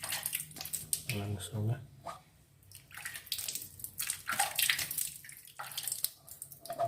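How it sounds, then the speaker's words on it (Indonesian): A printed sticker from a Brother DCP-T220 printer is rinsed under running tap water, a steady splashing flow with slosh and drips, under brief talk. "Kali ini akan kita coba cuci. Kita ke air."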